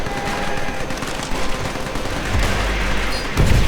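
Rapid bursts of automatic gunfire, continuous and loud, with heavier booming shots near the end, from combat in the video game Call of Duty: World at War.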